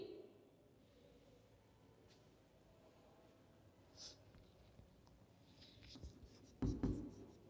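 Pen writing by hand on paper during a physics lecture, faint scratchy strokes running steadily under a quiet room, with a louder burst of scraping near the end.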